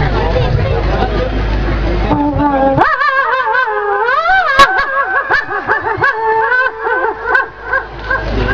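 After a burst of college-stage crowd noise, a mimicry artist imitates a dog, letting out a series of yelping, howling barks that rise and fall, loud and close.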